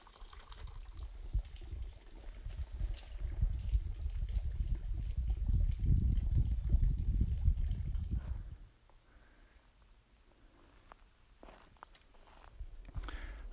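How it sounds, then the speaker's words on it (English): Running water at Rattlesnake Spring along the Arizona Trail makes a low, steady rushing that swells for several seconds, then drops abruptly to a faint trickle, with scattered footsteps and rustling nearby. "I stopped and I could hear running water. So there's running water here."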